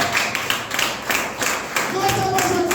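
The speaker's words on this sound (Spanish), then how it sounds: "Date un aplauso a Dios." A church congregation breaks into applause during a Spanish-language sermon, with broadband clapping bursts that rise and fall in uneven waves over about three seconds, a sustained tone and some voices mixed in.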